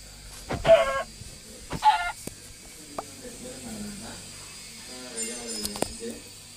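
Chickens in a Minecraft game cluck in short, clear bursts, two near the start and more toward the end, over quiet game ambience, with a voice talking in between.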